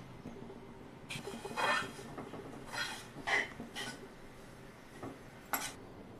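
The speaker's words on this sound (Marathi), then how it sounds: "याच्यामध्ये आपण खारीक आणि खोबरं हे फक्त परतून घ्यायचंय, कडक नाही करायचंय" Dry dates and grated coconut are sautéed in ghee in a pan, with soft scraping and occasional metallic clinks of a spoon against the pan, fairly quiet and steady.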